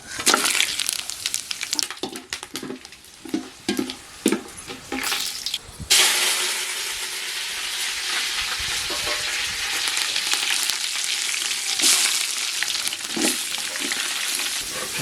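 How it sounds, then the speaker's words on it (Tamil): Cinnamon and other whole spices hit hot oil in a pan for chicken gravy. A few sharp clatters and stirring come first, then a loud, continuous sizzle takes over and holds close and steady to the end. "எண்ணெய் சூடாயிட்டு பட்டை வகையெல்லாம் எடுத்து வச்சுருக்கிறேன் இப்போ பட்டை வகையை சேர்த்துக்கலாம்"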